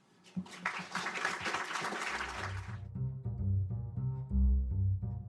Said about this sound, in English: please join me in giving them a warm round of applause